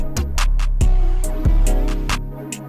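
An unconventional experimental beat plays alone, with deep booming bass kicks landing irregularly, sparse crisp percussion hits and hazy melodic textures, moderately loud and uneven in rhythm.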